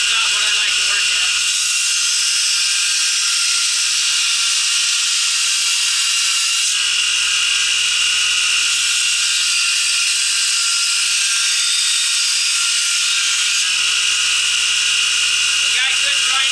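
An aluminum-frame 2x72 knife belt grinder with its wheel fitted runs at 3,600 RPM. It makes a loud, steady, high-pitched whine that carries on without a break throughout.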